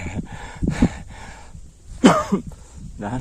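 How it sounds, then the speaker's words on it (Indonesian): A hiker on a steep, overgrown trail up Gunung Slamet coughs and clears the throat twice, the sounds close and fairly loud, separated by labored breathing and rustling. "dan batuk."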